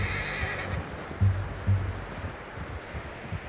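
A horse in the video game Red Dead Redemption 2 gives a short whinny, followed by a few soft hoof clops, heard clearly with no talk.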